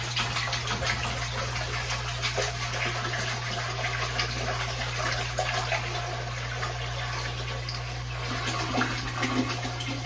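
A gallon of water is poured into a canner in a home kitchen while ham and potato soup is canned, giving a steady, continuous rushing gush near the microphone over a constant low electrical hum.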